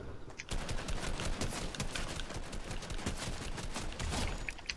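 Rapid gunfire in the Fortnite video game crackles in dense, continuous bursts of overlapping shots, fairly distant and moderately quiet throughout.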